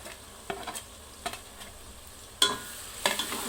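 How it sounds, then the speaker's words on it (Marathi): Finely chopped tomatoes stirred into a hot pan, a soft sizzle underneath with intermittent sharper scrapes and clinks of the spoon against the pan, close and fairly quiet. "तर आता हे टमाटे बारीक चिरून घेतलेले आहेत, आपल्याला हे घालायचे आहेत।"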